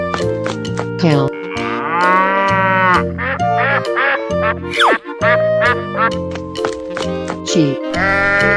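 Cartoonish cow moos ring out from a 3D animal sliding game, layered over a busy, continuous game music track with bright tonal notes and steady beats throughout.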